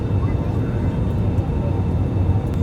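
Inside the cabin of an IndiGo Airbus A320 approaching Mumbai, a steady loud low roar of engine and air noise fills the space without a break.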